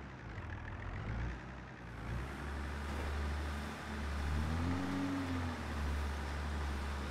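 Farm tractor in Farming Simulator 22 driving along a dam, a low steady engine drone that holds level throughout with a slight swell in the middle, no voices.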